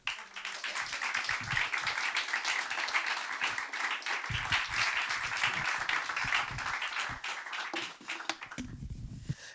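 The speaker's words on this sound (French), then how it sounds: "Merci d'applaudir Nadège." A studio audience applauds steadily and loudly for a guest at a French talk show, dense clapping sustained throughout with a slight thinning near the end.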